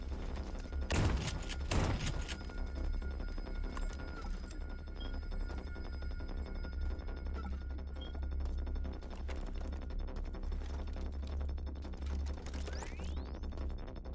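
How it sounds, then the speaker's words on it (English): Gunfire in the video game System Shock: a couple of sharp, loud shots early on, then a steady hum of game ambience with only faint, sparse activity afterward. "Is the gunshots really loud? Are they really, really, really loud?"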